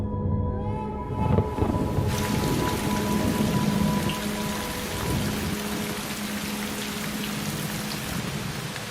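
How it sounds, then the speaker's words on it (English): Heavy rain pours steadily in wet western Tasmania, a dense, continuous hiss of drops on surfaces with a brief louder burst near the start and a few low rumbles underneath. "Some western areas are among the wettest in all of Australia. It rains here nearly every day."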